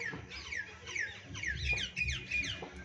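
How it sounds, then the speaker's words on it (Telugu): A flock of small birds squabbling, with rapid overlapping downward chirps and squawks close by, repeating throughout over a low background rumble. "ఈ పిట్టలకి తగాదా."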